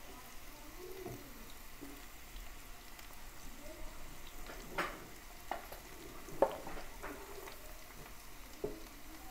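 Tomatoes fry in a pan with ridge gourd and tamarind, giving a soft, low sizzle with scattered light clicks and stirring taps. Nobody speaks.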